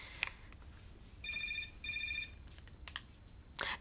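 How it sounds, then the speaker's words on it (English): A telephone rings in two electronic bursts, followed by a few short clicks and rustles, indoors and fairly quiet against a low background hum. "That's the sound of my stalker ringing me."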